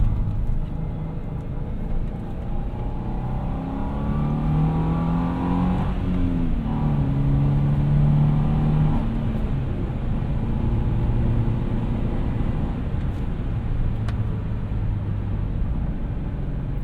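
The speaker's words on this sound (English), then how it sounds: "the noise of a Boxer engine is just so different than other 4-cylinders" A 2005 Subaru Forester 2.5XS with a manual gearbox rumbles steadily from its boxer four-cylinder while driving, a low throbbing drone heard from inside the cabin, with a gentle rise and fall in engine pitch and no talking.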